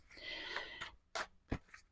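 Tarot cards shuffled by hand in a steady papery riffle and scrape for most of a second, followed by two sharper separate card snaps or taps, close and moderately loud.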